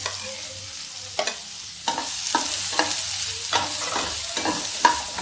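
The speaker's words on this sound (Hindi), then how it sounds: "अब प्याज को भी हल्का भून लेते हैं जिससे प्याज की मिठास ना खत्म हो इतना" Chopped onions fry in a little oil with already-browned garlic in a pan for a dhaba-style spinach dal, scraped by a spoon in irregular stirring strokes over a steady close sizzle, with no talking.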